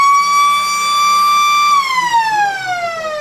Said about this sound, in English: there is the siren and the end of the second quarter